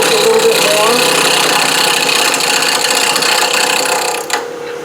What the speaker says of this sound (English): You'll also find that the wood cuts better one direction than the other.